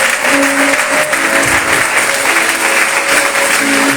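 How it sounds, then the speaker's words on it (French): A church congregation at a Pentecostal service applauding and cheering loudly for the Lord, a dense continuous wash of clapping and voices filling the room. "Acclamez le Seigneur fort."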